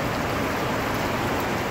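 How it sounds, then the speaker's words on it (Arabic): Heavy rain pouring down on a street in the Hijra district of Mecca in the evening, a loud, dense, steady hiss of falling water without pause. "أمطار مكة المكرمة مساء يوم الثلاثاء"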